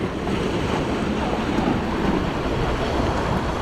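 Ocean waves wash ashore in a steady broadband roar, mixed with wind buffeting the microphone, at a rocky shoreline where people fish from land with light lures.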